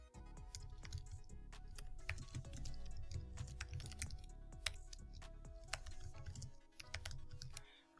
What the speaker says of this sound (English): I'll start typing it in.